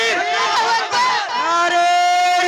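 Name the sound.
crowd chanting the slogan Nara-e-Takbeer at a conference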